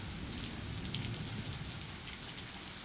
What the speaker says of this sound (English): unfortunately started raining like usual